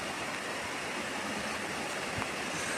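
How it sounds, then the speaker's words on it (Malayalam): Heavy first rain of the season pouring down steadily, a dense, continuous hiss of rainfall at close range with no pauses and no voices. "എത്രത്തോളം മഴയുണ്ടെന്ന് മോളിൽ കാണിച്ചറിയില്ലേ"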